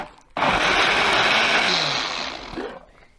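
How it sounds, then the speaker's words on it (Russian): A blender blending a drink made with soda water roars on abruptly, whirring loud and steady for about two seconds before winding down and cutting off. "И пробиваем в блендере."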